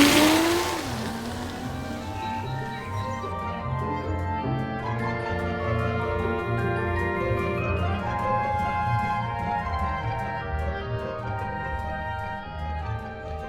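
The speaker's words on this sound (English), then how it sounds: "Starting the engine." A camper van engine starts with a rising rev, then settles into a steady, loud driving drone that continues for over ten seconds with no talk.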